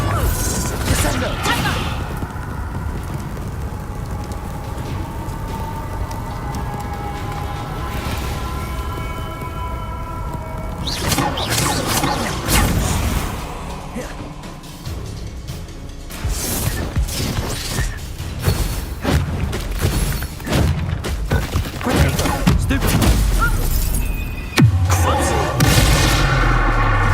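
Spell-casting combat in the Hogwarts Legacy video game, with a Descendo spell slam amid bursts of magical blasts, crashes and booms, dense and loud throughout with a brief lull midway, musical score underneath.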